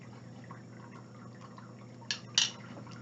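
A pet's water fountain trickles and drips steadily in the background, low and continuous, with a couple of brief louder splashes near the end.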